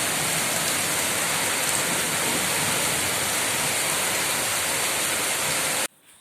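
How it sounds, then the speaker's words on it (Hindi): Heavy rain falling at night around nine o'clock, a dense, steady hiss of downpour at constant strength, cut off abruptly just before the end. "ये देखिए कितनी भयंकर बारिश हो रही है इस वक्त"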